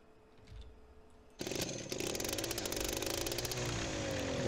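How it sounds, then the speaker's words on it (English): In Farming Simulator 19, a tractor with an engine sounding like a chainsaw motor revs up abruptly from a low idle into a loud, continuous buzzing drone. "The tractor with the chainsaw motor."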